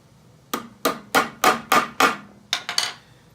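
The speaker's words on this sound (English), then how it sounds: "We'll tap it home with the domino." Eight crisp hammer taps drive a domino connector anchor into place, evenly spaced at first and then a quick final cluster, close and loud with no talk.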